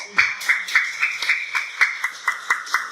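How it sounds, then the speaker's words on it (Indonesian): A group in a classroom gets a short round of applause: a few people clapping in a steady, fairly quick rhythm, close and moderately loud, with no voices over it. "Aplaus buat kelompok."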